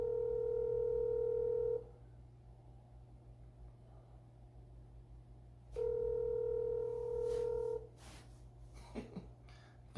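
A telephone dial tone on speakerphone, a steady loud tone sounding twice for about two seconds each with quiet gaps between, placing an outgoing call to a freight broker.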